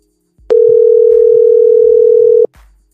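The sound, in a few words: telephone dial tone while calling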